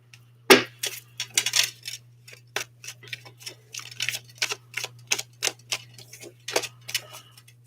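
Tarot cards shuffled by hand indoors, giving a run of quick crisp riffles and soft slaps in an uneven rhythm over a low steady electrical hum.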